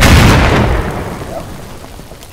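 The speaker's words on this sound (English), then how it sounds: "And the steel hand grenade." A steel hand grenade detonates in the WW2 Minecraft BlockFront mod, one loud close boom that rumbles and fades away over about two seconds.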